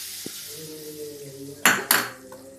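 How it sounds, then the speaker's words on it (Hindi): A hot tempering with Kashmiri chilli is poured over cooked vegetables, giving two quick, loud sizzling bursts that fade into a soft hiss after a few quiet kitchen clinks. "तो अब ये देखिए, ये इसके ऊपर ये गया तड़का।"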